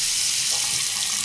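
Water runs and sprays from a toilet supply hose just disconnected during a valve and hose replacement, a steady close hiss of flowing water with no talk.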